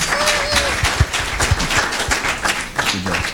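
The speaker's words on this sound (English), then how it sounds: "Can you guys give me a round of applause?" A small meeting audience at a tech demo in Crystal City claps, a loose, moderately loud patter of individual hand claps with a few sharp near claps.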